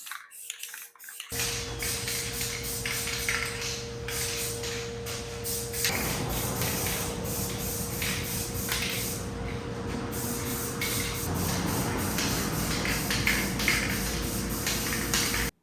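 A spray paint can hisses steadily while a DIY cargo bike frame is coated, the long continuous spray running in near bursts with short breaks over about fifteen seconds.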